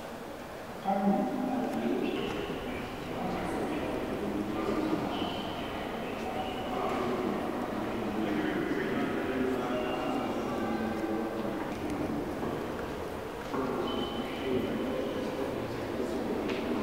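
A train rolls steadily past on a railway line in Scotland, producing a continuous low rumble with light rattling and clatter throughout.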